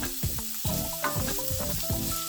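Rendered beef fat sizzles and crackles in a hot pan, a close, steady frying hiss with bright pops throughout, no voices.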